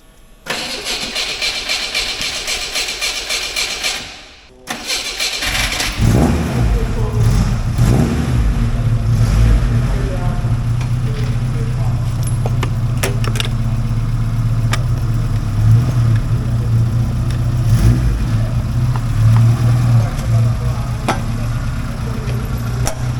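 Engine of Lynx starting after a brief silent pause, then running steadily at a close, loud idle for the rest of the clip, with no talk over it.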